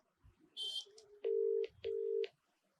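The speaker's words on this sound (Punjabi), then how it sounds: "ਐਮਐਲਏ ਸਾਹਿਬ ਦਾ ਫੋਨ ਮੈਂ ਲਾ ਰਿਹਾ ਰਿੰਗ ਜਾ ਰਹੀ ਆ" A phone line ringing: two long, steady electronic ring tones after a brief beep, clear and close, with no one talking.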